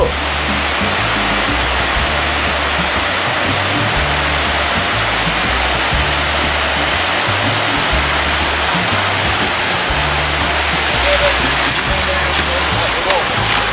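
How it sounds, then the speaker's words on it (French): Motorcycle on the Trans-America Trail crossing a river, a loud constant roar of rushing water with the engine mixed into the wash throughout, near and unbroken. "Stu qui traverse la rivière, c'est lui qui nous a incité à le faire"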